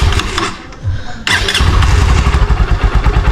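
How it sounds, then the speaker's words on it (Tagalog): A Honda Supremo motorcycle engine cranks briefly, then catches and settles into a loud, close, rapidly pulsing idle. "unang gagawin natin pag na-start natin yung motor, papainitin muna natin mga kalabarkada yung makina"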